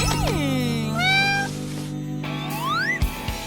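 A cat meows several times for a cardboard craft kitty, with long sliding, rising and falling cries that are loud and close against a steady background hum, ending in a couple of soft thumps.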